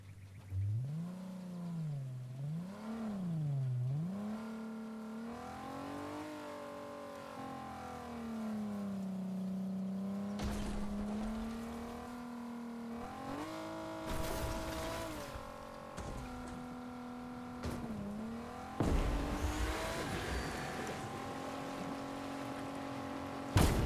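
Car engine in the video game Fortnite droning and revving through gear shifts, pitch rising and falling steadily over a long drive, with sharp bangs and crashes breaking in near the middle and end.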